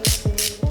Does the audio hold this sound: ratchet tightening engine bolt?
yes